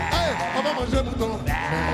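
Sheep bleat in a crowded outdoor setting, several wavering calls rising over a dense background of crowd noise and voices, close and loud.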